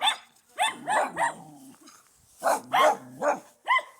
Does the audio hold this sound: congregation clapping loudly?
no